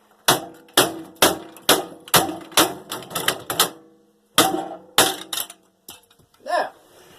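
Hard plastic buttons are ripped and cracked off a microwave's control panel in a rapid series of sharp, loud snapping hits, with a brief pause midway and scraping at the end.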